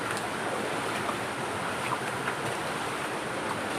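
A newly found waterfall near Dehradun, heard as a constant dense rush of falling water with some wind noise, steady and fairly close, with no voices.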